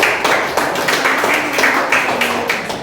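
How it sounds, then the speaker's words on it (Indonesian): Classroom applause for a student group during an Indonesian lesson, a small crowd of hands clapping in uneven bursts, fairly loud and close, with no talk over it. "Beri tepuk tangan untuk kelompok 1."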